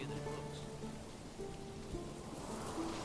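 Steady cold rain patters on the ground and surfaces in the medieval city-builder Manor Lords during winter, a soft continuous hiss heard alone at fairly low level.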